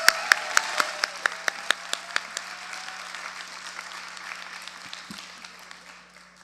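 Audience applause at a workers' organizing conference: sharp individual claps ring out in a rapid, slightly uneven series, then thin into a softer, dwindling patter of clapping with a steady low hum underneath.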